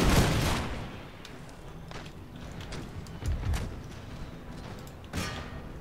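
Ragged musket volleys crackle in Empire Total War, a loud opening burst followed by scattered, softer shots and a second sharp volley near the end, with no voices.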